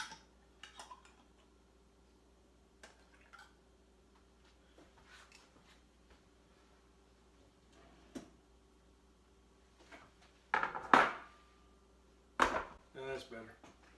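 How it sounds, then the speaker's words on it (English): Boiled metal canning lids are set onto glass jars of dried lima beans in a kitchen, giving scattered light clicks and a few sharper metallic clinks toward the end, with a person speaking at times. "I'm going to take my lids that have been boiling over here, and I'm going to go ahead and put a lid on each one of these."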